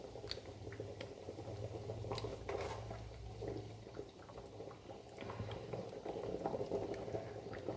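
Coconut fish curry bubbling at a gentle boil in a pot, a soft continuous blub and pop, quiet and close.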